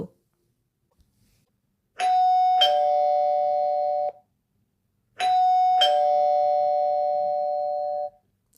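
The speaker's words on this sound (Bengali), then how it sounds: "calling bell টিপল" A calling-bell doorbell rings twice in a Bengali detective audio story. Each press gives a clear, sustained two-tone chime with about a second of silence between the rings.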